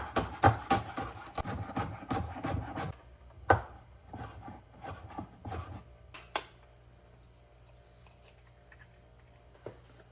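Kitchen prep for a tortilla: a dense run of knocks, taps and scraping on a wooden surface, then more scattered knocks and clatters trailing off into quiet, with no talking.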